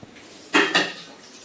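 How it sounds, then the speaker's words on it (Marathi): Two quick clinks of dishes and utensils knocking together nearby while dishes are washed by hand, then quiet, no voices. "तू भांडी घास ना शांतपणे"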